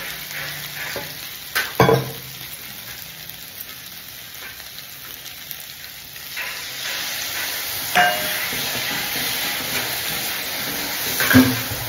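Pre-fried fish heads sizzling in spice paste in a pan, a continuous fry crackle with a few clattering knocks of a stirring utensil.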